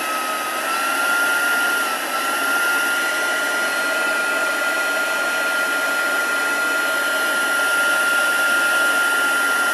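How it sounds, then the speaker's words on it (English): Heat tool for embossing a card blows a steady, loud airy whoosh with a faint high whine throughout, running alone without pause. "it's always worth heating your heat tool first, so that it means your card is less likely to warp"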